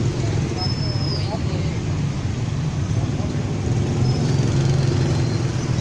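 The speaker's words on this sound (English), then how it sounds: "Tons and tons of people and cars and motorbikes." Dense rush-hour street traffic in Cambodia, with a steady roar of cars and motorbikes and a low background babble of crowds, continuous and fairly loud throughout.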